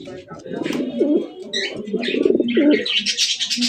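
Blue satin pigeons coo close by in soft, repeated throaty calls, with someone talking over them.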